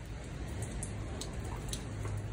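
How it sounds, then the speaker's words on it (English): Rain falls outdoors as a steady, even patter of drops with a constant low rumble underneath, moderately loud and continuous throughout. "Sorry, it's raining, so I gotta be careful."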